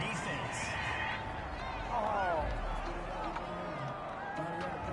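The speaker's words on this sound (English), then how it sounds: "This home crowd, they're happy with that call." Home crowd in a Madden 21 football game reacts to a penalty call with a swell of cheering and murmuring under a commentator's voice, moderately loud and brief.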